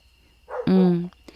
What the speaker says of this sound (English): Excuse my dog, but he's just confirming everything I'm saying here.